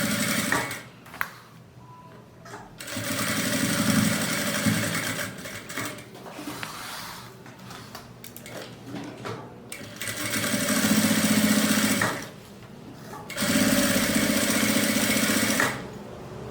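A sewing machine edge-stitches pockets onto lining fabric, running loud and steady in three long bursts separated by quieter pauses.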